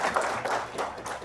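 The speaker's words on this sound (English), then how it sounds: "You can clap for yourselves." Audience applause at a finance research competition's local finals in Uganda, a dense patter of many hands clapping steadily throughout without a break.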